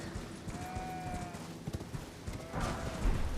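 Hooves clatter from goats in Elden Ring, a quick irregular run of light knocks over ambient game sound, moderately close with a louder burst near the end.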